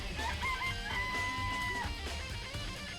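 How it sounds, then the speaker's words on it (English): Chickens in a coop in the video game Danganronpa cluck and crow, with a drawn-out rooster-like call over steady background game noise, close and fairly clear. "I saw some chickens in the coop."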